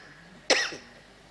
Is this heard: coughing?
yes